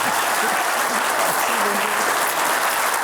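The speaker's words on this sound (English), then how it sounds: "warm round of applause" A full room applauds a departing president at a formal event, giving a dense, steady wash of clapping that keeps an even loudness for the whole three seconds, with faint voices underneath.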